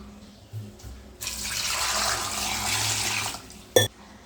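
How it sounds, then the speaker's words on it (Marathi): Water poured over potatoes in a kitchen to wash them, a steady rushing splash lasting a couple of seconds after a few faint knocks, ending with a sharp clunk of a vessel. "मी पाणी टाकून धुवून घेतले"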